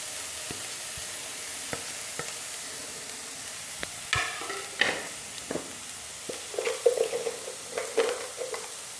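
Shredded cabbage stir-fries in a pan for veg spring rolls, giving a gentle, steady sizzle under scattered clicks and scrapes of a spatula that grow busier toward the end, close by with no talk.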